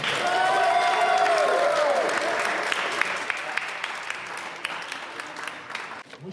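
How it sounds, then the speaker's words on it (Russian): Audience applause at a freediving competition in Nizhny Novgorod, a loud burst of clapping with some cheering that gradually thins and fades over several seconds before a voice briefly returns. "Аплодисменты."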